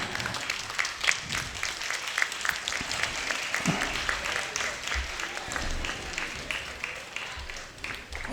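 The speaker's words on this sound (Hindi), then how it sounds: "एक बार खड़े होकर तालियां बजनी चाहिए" An audience gives a standing ovation at a Guru Purnima folk-music event featuring Birha singers, with dense, lively clapping that swells and rolls on unevenly for several seconds.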